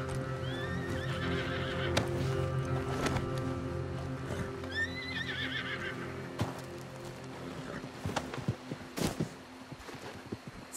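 A horse in a video game (Red Dead Redemption 2) whinnies twice over steady background ambience, followed by scattered hoof clops and thuds, fairly close.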